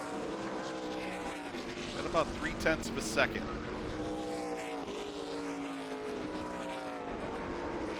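ARCA Menards Series West stock cars race around a track, their engines roaring steadily with a rising and falling whine as they pass. A commentator talks continuously over the engine noise.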